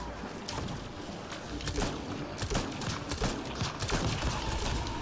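Rapid gunfire from a weapon in Mass Effect: Andromeda, a dense stream of sharp shots. Busy combat noise runs throughout at fairly steady loudness.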